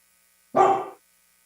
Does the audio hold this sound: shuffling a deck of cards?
no